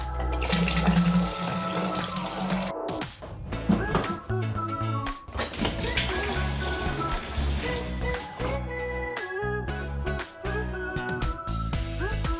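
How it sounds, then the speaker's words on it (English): Water pumped into a marine aquarium tank during a water change, a continuous splashing and gurgling pour close by, broken by brief pauses and bubbly fluctuations as the flow shifts. "the water was filling up this tank to this level"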